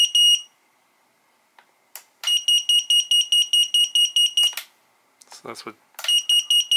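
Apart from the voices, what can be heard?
drone buzzer beeping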